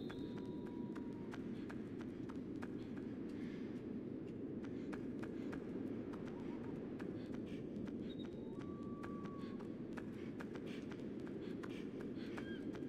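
Running footsteps in the video game Ico come as a steady, rapid patter under a constant dense ambient wash, with faint tonal chimes drifting in and out.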